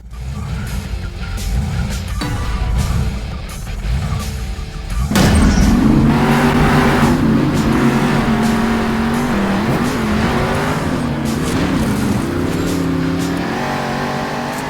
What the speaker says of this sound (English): you and I jumped into some big trucks because we're talking about Monster Jam Steel Titans